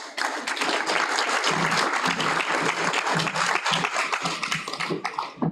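A graduation ceremony crowd applauding loudly and continuously, dense clapping that fades slightly at the very end.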